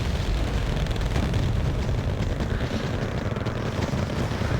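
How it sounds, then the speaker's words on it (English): A rocket artillery barrage in Wargame AirLand Battle makes a continuous, dense rumbling roar of overlapping explosions, loud and unbroken from start to finish. "There's another Rotary rocket barrage."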